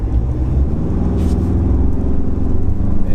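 A Ford Ranger Raptor pickup truck's engine rumbles steadily from inside the cab, a loud low drone with a rough diesel-like texture that holds throughout without any speech.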